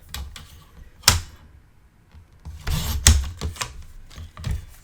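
A paper trimmer slices cardstock for a mini album, giving two sharp, loud cutting clacks about two seconds apart amid softer handling rustles, with no speech.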